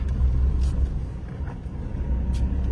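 A car travels along a road in Mauritania, giving a continuous low rumble of engine and tyres, heard steadily from inside the vehicle with no speech.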